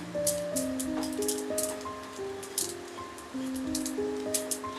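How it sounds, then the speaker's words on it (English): Poppy seeds crackle and pop as they roast in a stirred pan of masala for Konkani chicken sukka, with scattered sharp little bursts over a steady tonal background. "You can hear the sound of the poppy seeds popping."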